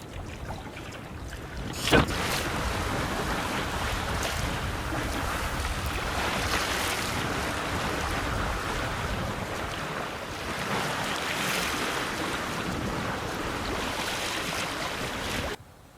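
Wind gusts across the microphone with a steady washing of water around a small trailer sailboat cruising slowly down the Barrier Reef coast in a light breeze, a continuous rushing noise broken by one sharp knock near the start.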